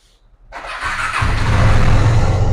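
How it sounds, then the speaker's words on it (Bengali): A used car on a Maa Kali Motors lot is started: a brief cranking catch rises into a steady, close idle with a low rumble that holds loud and even to the end. "গাড়ির কন্ডিশনটা চালিয়ে স্টার্ট করে ভিউজারদেরকে চালিয়ে দেখিয়ে দিচ্ছি গাড়িটা"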